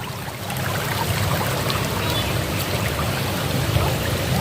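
A rural river stream used to irrigate rice fields, flowing as a steady, loud, broadband rush of water that fills the whole clip without a break.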